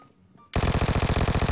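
Rapid full-auto Vector submachine gun fire from PUBG Mobile, a loud, close, continuous stream of evenly spaced shots bursting in abruptly after a quiet moment.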